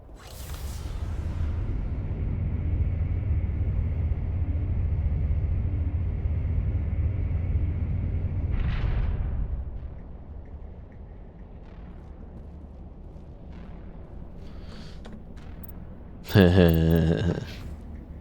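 A Mass Effect video game explosion: a sudden blast leading into a long, heavy rumbling roar that fades after several seconds, followed by quieter mechanical sounds and a brief sharp burst near the end.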